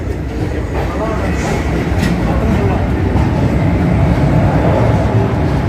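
A moving passenger train on a trip to Kanyakumari rumbles and rattles steadily and loudly, a continuous close-up clatter with no pauses.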